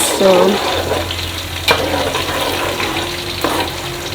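Onions frying in a pan over low heat give a steady, soft sizzle close by, with a brief clatter near the start and a couple of faint clicks from stirring.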